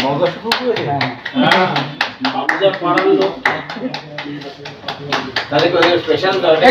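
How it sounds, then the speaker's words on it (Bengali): A small group claps for tour companions during a friendly send-off at a Diu Fort visit in Gujarat, a dense, close burst of hand claps running throughout with people talking over it. "একটু হাততালি"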